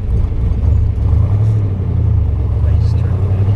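A 1966 Chevrolet Corvette's 427 big-block V8 engine rumbles deep and steady from inside the car as it drives, a low throaty drone with no distinct revving.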